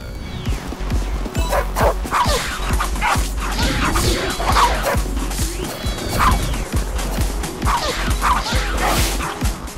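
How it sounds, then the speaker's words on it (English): A game dog in Tokyo Jungle barks and yips in a fast, steady run of calls, with whimpering yelps mixed in and faint background game sound underneath. "Oh, there's another dog up there."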